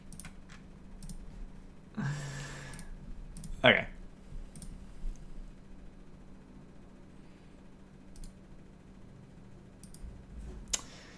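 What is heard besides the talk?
computer mouse clicking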